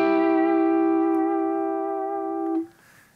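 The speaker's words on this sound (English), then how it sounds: "the destroyer setting on the Mobius." Electric guitar holding a sustained chord through the destroyer modulation setting on a Mobius pedal, a steady ringing tone with subtle textured movement that cuts off abruptly near the end, leaving a faint tail.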